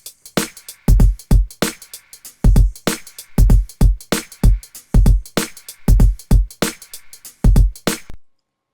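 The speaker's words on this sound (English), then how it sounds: "And then finally the kick drum." A hip hop beat with kick drum now under the doubled snares thumps along in a steady looping pattern, deep booming kicks alternating with crisp snare cracks, loud and close, ending abruptly.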